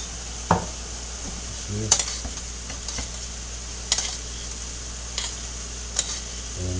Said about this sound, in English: I'm going to throw a little garlic in with these, a little garlic in with those.